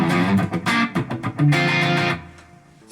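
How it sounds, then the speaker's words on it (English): Overdriven electric guitar played through a Fender Tonemaster FR10 amplifier, with several loud distorted chords and picked notes over about two seconds, then a ringing decay into quiet. "Overdrive sound from the Fender FR10."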